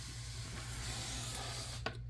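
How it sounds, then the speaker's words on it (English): A spray bottle mists down a baby mourning gecko's tank in a steady, close hiss, with a low hum underneath and a brief sharper spritz near the end. "Go spray the baby morning gecko tank down"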